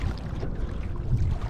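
A canoe coming in to land at a riverbank during high water, a continuous rumbling slosh and rush of water against the hull, close and steady, with no talk.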